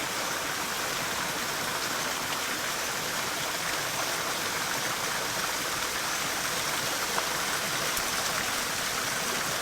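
Water flowing steadily in the Ginkaku-ji Japanese garden in Kyoto, a continuous broadband rush like a small stream or cascade, even and unbroken throughout with no voices.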